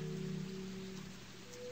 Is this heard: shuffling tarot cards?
no